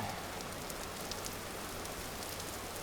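Steady rain falls in the video game Vintage Story, a soft, even hiss of drops on surfaces that stays constant and fairly quiet throughout, with no talking.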